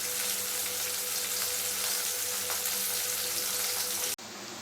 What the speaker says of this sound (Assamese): ভালকৈ ভাজি হোৱাৰ পিছত তাত মই সৰিয়হখিনি অকণ পানী সৈতে ঢালি দিম